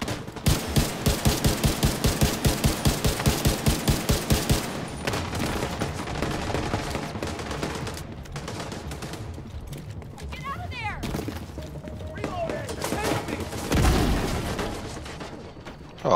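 Gunfire in The Division 2 opens with a rhythmic run of evenly spaced, loud single shots, then gives way to more scattered shots and mechanical clatter, with speech-like bits mixed in and a heavy thump near the end.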